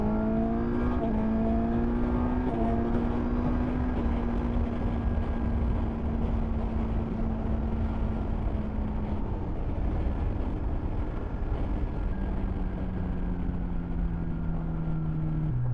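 A Suzuki GSX-S1000 GX motorcycle pulls hard under acceleration, its engine note climbing with a shift early on, then holding a strong, steady drone that dips slightly near the end.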